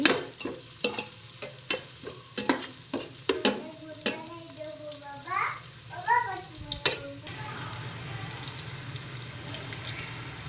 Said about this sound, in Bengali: এখানে আমি বেরেস্তাটা ভেজে নিচ্ছি